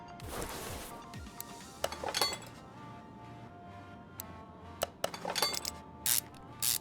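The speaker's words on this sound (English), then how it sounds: "I do have to say that the UI sounds are very satisfying in a way. Click, click, click." Clicking interface sounds from the video game Car Mechanic Simulator 2021: scattered, bright, glassy clinks and ticks, some single and some in quick bursts, over a quiet background with no talking.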